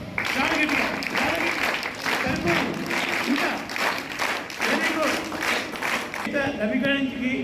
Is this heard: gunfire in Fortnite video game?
no